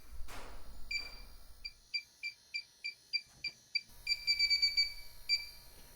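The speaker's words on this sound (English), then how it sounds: "Next up we have the Testo 316-3, and just like all the other leak detectors in this entire series, it'll be set on highest sensitivity." Testo 316-3 refrigerant leak detector on highest sensitivity, sniffing for R410A: a run of short, evenly spaced high electronic beeps that quicken into a rapid burst, close and clear with no talk.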